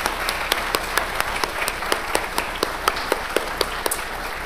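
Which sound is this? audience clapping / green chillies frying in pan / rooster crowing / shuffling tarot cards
audience clapping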